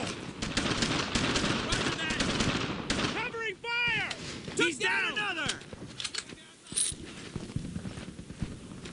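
Rapid rifle and machine-gun fire in the World War II video game Brothers In Arms: Earned In Blood, dense bursts up close, with soldiers shouting orders over the shooting in the middle.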